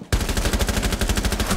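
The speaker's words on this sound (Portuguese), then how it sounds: "Ai, tomando muito tiro, velho." Rapid automatic gunfire from the Rainbow Six Siege video game rattles off in a fast, even stream of close, loud shots lasting over a second.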